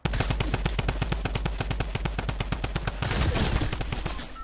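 Rapid automatic gunfire from a Fortnite match rattles off in a fast, even string of shots, loud and close, ending in a denser burst of noise.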